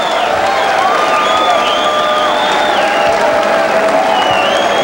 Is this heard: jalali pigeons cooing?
no